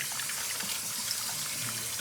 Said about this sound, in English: Now we go to the cold water and rinse, rinse.